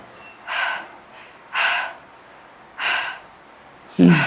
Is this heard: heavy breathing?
yes